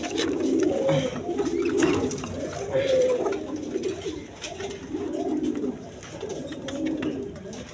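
Pigeons coo close by in repeated soft throaty phrases, a pair calling in overlapping rounds with brief pauses.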